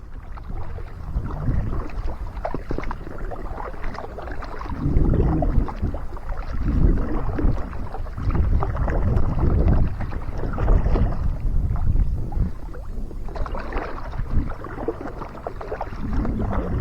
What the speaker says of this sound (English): the breeze is blowing pretty strong